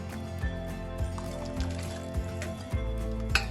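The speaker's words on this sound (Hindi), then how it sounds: "हमारा पानी गर्म है, हम राइस को इसमें डाल रहे हैं जो हमारे पास सोक किया हुआ था पहले से।" Soaked rice is poured into hot water in a pot for Hyderabadi mutton dum biryani, a steady close sloshing and liquid churn with a few soft splashes, no voices.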